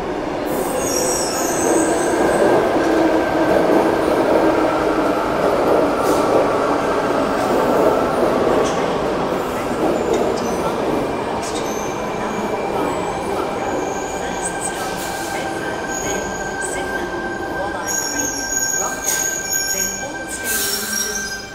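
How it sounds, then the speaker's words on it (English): Sydney Trains Cronulla service pulling into a platform at Central Station, a loud, continuous rumble of wheels and carriages with a steady tonal whine and occasional squeals, close by and sustained throughout. "Arriving on platform 25, we have our Cronulla via Cogra service."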